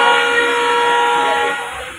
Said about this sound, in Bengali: একদম রাইট টাইমেই আমাদের ট্রেন ছাড়লো আলিপুরদুয়ার থেকে